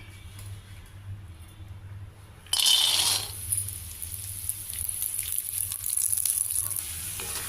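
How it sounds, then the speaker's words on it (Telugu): Peanuts hit hot oil in a pan and burst into a sudden loud sizzle, settling into steady crackling frying with faint stirring throughout. "మళ్ళీ ఇంకో స్పూన్ నూనె వేసుకోవాలి నూనె వేసుకుని పల్లీలు"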